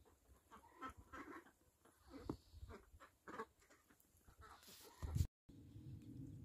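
Khaki Campbell ducks quack and chatter in short bursts nearby, scattered honking calls mixed with bits of talking and shuffling noise, on a cold winter day.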